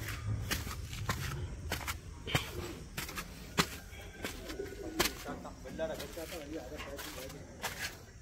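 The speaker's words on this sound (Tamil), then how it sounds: "புறாவை கூட இருக்க பார்த்துருவோமா?" Pigeons on a farm cooing in soft low calls, mixed with footsteps, scattered knocks and someone talking nearby.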